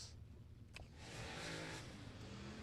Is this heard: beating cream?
no